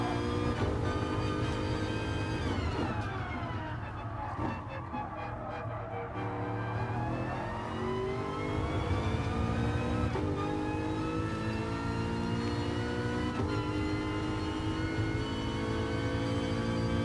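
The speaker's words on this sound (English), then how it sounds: "Chris using the downshift there, a little delay on the last gear before he drops into the gear he wants for the corner" A race car engine at a GTTCC touring car race revs hard under acceleration, then steps down through quick downshifts into a corner. The pitch rises and drops with each gear change, loud, close and continuous throughout.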